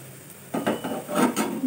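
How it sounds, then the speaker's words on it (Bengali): Onion fritters (peyaji) fry in oil, a soft sizzle rising after a quiet start, mixed with clinks of a utensil against the pan, no speech. "আর এই যে আমি এখানে ভাজতে বসিয়ে দিয়েছি"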